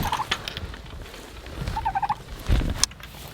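Turkeys gobble in rapid warbling bursts on a homestead, a few birds calling one after another at close range against outdoor background noise.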